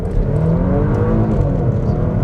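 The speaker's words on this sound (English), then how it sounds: "The turbos sound nice, but very controlled." A Porsche Macan Turbo SUV accelerating hard from a cold start in standard mode, its engine and turbos rising in a smooth, controlled, steady drone, close and continuous with no voices.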